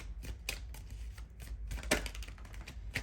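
Tarot cards shuffled by hand in a rapid run of soft, crisp riffling flicks and taps, close and fairly quiet, with no talking.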